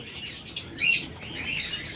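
A few brief, high chirps from small caged lovebirds or budgerigars, close and fairly soft, spaced apart with quiet gaps between them, in cold weather.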